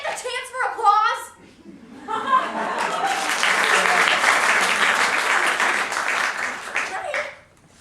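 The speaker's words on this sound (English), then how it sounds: "Would this song ever get the chance for applause?" An audience breaks into sustained applause during a comedic inn scene, a dense wash of clapping swelling and holding for several seconds after some brief talking, then fading out.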